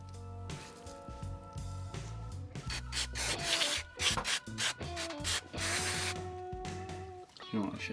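Rusty outer casing of an old carburetor, from an engine left abandoned for 20 years, being scrubbed clean with steady close rubbing and scraping strokes that run almost without a break.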